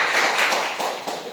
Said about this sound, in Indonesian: Boleh tepuk tangan dulu buat Tuhan kita.